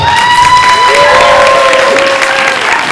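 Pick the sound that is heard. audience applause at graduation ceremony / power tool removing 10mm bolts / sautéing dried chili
audience applause at graduation ceremony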